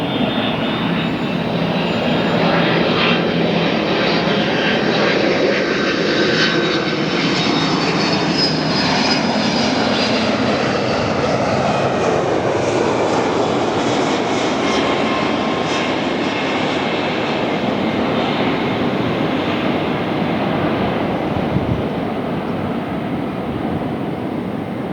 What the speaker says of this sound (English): Let's shut up to hear the awesome sounds of the CF6, or are they Pratts?